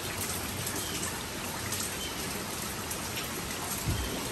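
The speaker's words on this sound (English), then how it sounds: "The rain has picked up a little bit, and you can see what's going on." Rain pours steadily off a metal roof and spills from the gutters, a dense, even patter and trickle of falling water with no voices.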